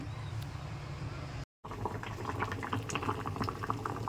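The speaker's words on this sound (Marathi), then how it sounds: "सुरुवातीला पाणी टाकायचं याच्यात म्हणजे आंबटपणा आहे ना तो पूर्णपणे निघून जाईल पाणी टाकून उकलवून घ्यायचा" Water with raw mango pieces bubbling at a rolling boil in a pot, a continuous burbling hiss, close by, briefly cut off for a moment before resuming.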